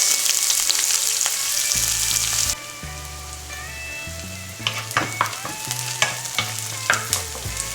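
Garlic and onion sautéing in a pan for chicken sotanghon soup, a steady frying sizzle with clinking utensil stirs breaking through, moderately loud and close with no talk.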